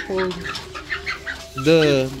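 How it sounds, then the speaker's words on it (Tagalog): Chickens clucking nearby in short, bubbly calls, ending with a longer, louder squawk. "Ang cute ng manok"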